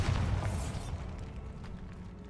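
Bombarda spell in Hogwarts Legacy, a single deep blast that booms loudly at the start and rumbles away into a fading low roar.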